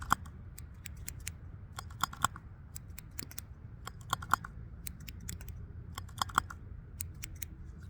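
Small scissors snip close and crisp in a quiet outdoor setting, with irregular clusters of sharp metallic clicks repeating steadily over a faint background hiss and no talking.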